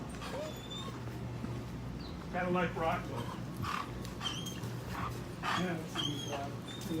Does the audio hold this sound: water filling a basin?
no